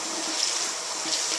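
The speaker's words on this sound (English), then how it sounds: "I'm washing my headband in the bathroom" Water runs steadily into a bathroom sink while a headband is washed, a constant close hiss of flowing tap water with small splashy flickers and no talking.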